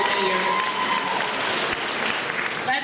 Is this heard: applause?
yes